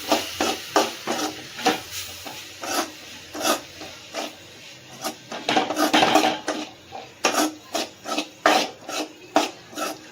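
Masala with chili powder is stirred and sautéed in a pan, heard as repeated scraping strokes of a utensil against the metal. The rasping comes in irregular bursts, close and fairly loud, with no talking.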